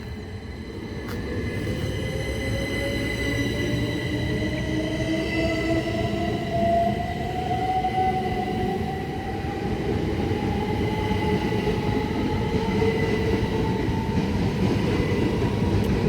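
A Southeastern Class 375 electric train pulls out of Tonbridge station, its motors rising in a steady climbing whine over a continuous rumble of wheels, close and sustained throughout.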